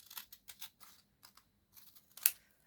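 Scissors trimming paper while making a mini journal: a few quiet, separate snips and cuts with pauses between them, ending in one sharper, louder crisp cut near the end.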